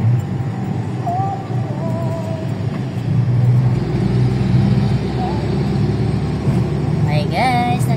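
Night road traffic in Pasig, heard as a steady broadband rumble of car and heavy vehicle engines that grows slightly louder midway, with brief tonal squeals and muffled voices mixed in.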